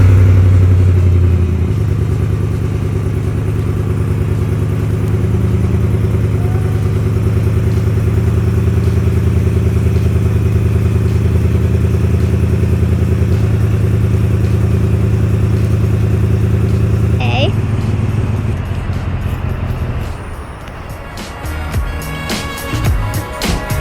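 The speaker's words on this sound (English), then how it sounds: "He's going in his little truck." A small pickup truck's engine idles and rumbles steadily close by, then fades as the vehicle pulls away, leaving quieter ambient noise and faint clatter at the end.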